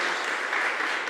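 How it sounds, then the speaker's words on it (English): A short stretch of steady audience applause for singers at a senior thesis recital on microtonal voice, an even, fairly close wash of clapping with no pauses. "just round of applause for my performers,"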